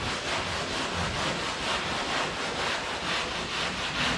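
Hand sanding of car bodywork, repeated back-and-forth strokes of abrasive on a panel forming a soft, steady rhythmic rasp at close range, quiet and without talk.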